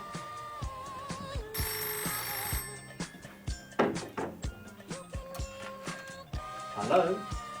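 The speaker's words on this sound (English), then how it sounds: "Jonathan, can I get the phone?" Telephone ringing indoors in a staged household scene, repeated ring tones sounding in bursts amid background music, with people talking over it.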